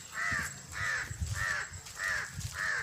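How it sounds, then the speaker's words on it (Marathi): A crow caws in a rural woodland setting, five loud harsh calls evenly spaced and close by, with no talk over them. "कावळा करतोय काव का"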